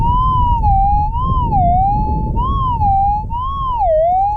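A metal detector fitted with a small coil sounds a steady, loud warbling tone over a buried target while prospecting in the bush around Meekatharra, Western Australia, the pitch rising and falling continuously with no talk.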